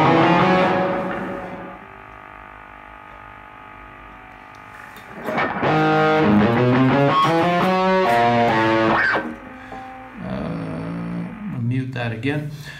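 Modelled electric guitar tone recreated through software, with a heavy 50% reverb mix: a loud sustained chord rings and decays, then a burst of distorted notes and a few more chords follow, washed in reverb.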